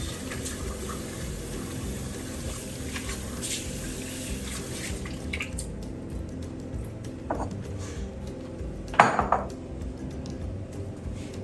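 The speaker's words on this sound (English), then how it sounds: "Taking off all the sand by using running water over the lettuce." A tap runs over lettuce as it is washed free of sand, water splashing steadily into a sink before thinning out, with a few knocks and clinks of dishes toward the end.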